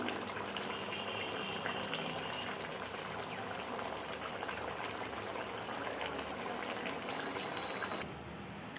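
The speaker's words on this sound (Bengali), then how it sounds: "ঝোল ফুটে গেল, এরপর দিয়ে দেব ভেজে রাখা মাছ। কিছুক্ষণ এইভাবে ফুটবে।" Fish curry sauce with fried bhetki boils in a pot, giving a steady loud bubbling and hissing roar that runs unbroken and drops slightly in level near the end.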